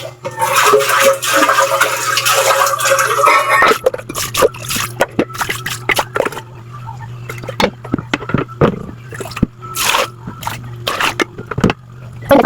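Water splashes and sloshes against a cooking pot while it is rinsed, with scraping and rattling of the metal; a steady hum runs under the first few seconds, then come broken bursts of splashing and knocks close by.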